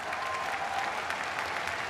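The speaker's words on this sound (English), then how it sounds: "Give your local members of Congress and senators a round of applause for that." Audience applause at a political rally, steady continuous clapping from a large crowd throughout, fairly loud and dense with no speech over it.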